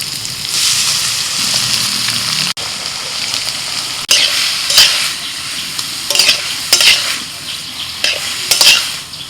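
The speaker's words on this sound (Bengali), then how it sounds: "ফোড়নটা হয়ে গেছে, লাউ দিবি।" Chopped bottle gourd hits hot oil tempered with bay leaf, dried chillies, cumin and nigella seeds, setting off a loud steady sizzle with repeated scraping stirs and clinks close by.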